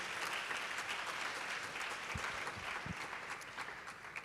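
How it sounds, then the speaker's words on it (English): Symposium audience applause at an anniversary celebration, a full, even roar of many hands clapping together, sustained throughout at a steady level. "big applause to Dr. Abuzu."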